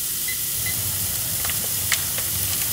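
Bacon strips sizzling in a frying pan while breakfast is cooked, a steady broadband hiss with scattered small pops and crackles, close and continuous with no talking.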